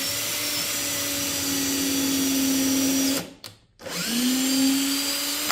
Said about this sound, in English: I'm just going to drill straight in where I have this hole.